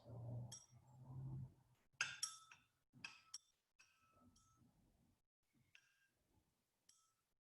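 Glassware clinks and ticks as a solution is stirred in a chemistry lab, light irregular taps of glass, with some low muffled handling noise early on, faint and close.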